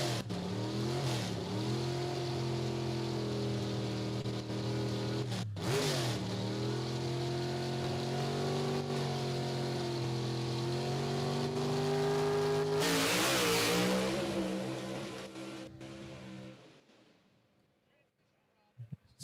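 A drag race car roaring down the track at Knoxville Dragway during the RAM Clutches Nationals, its loud engine note rising and dipping through long pulls before fading away into the distance.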